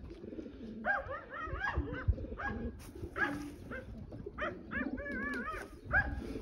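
Several Janssen De Klak pigeons coo repeatedly in soft, warbling phrases, close by, with low rustling and shuffling underneath.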